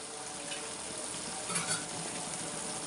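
Bread and dry fruits frying in ghee in a pan for bread halwa: a constant, dense sizzle with light stirring scrapes throughout, close and even in level.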